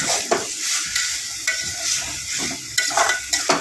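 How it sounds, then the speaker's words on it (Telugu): Chicken curry being stirred in a frying pan: a spatula scrapes and clacks in irregular strokes over a continuous sizzle, close and fairly loud, with no voices. "చికెన్ వేసుకొని ఇలా తిప్పేసుకుందాం"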